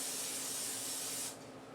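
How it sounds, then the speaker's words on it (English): Cooking spray hisses steadily from a can onto a foil-lined baking sheet in a kitchen, one continuous close burst lasting over a second before cutting off to quiet. "I have cooking spray."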